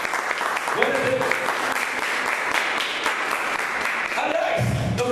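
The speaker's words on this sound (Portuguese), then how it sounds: "Vamos aplaudir o nome do Senhor, que ele é digno de ser amado." Church congregation applauding during a worship service, a steady wash of clapping over a murmur of voices, with brief musical tones sounding underneath.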